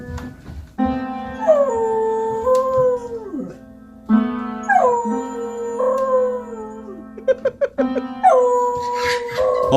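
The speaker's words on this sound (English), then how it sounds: "a dog actually jumps up and uses his paw to play the piano and howl at the same time" A beagle howls long, wavering notes while pawing at a piano, a sustained tonal drone from the piano keys under its voice, with short yips and sharp key strikes breaking in between the drawn-out howls.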